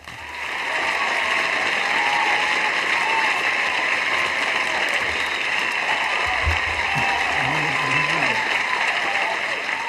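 Applause for the youth at a public gathering in Haiti, dense sustained clapping from a large audience that swells in after a second and holds steady and loud, with a few brief voices underneath.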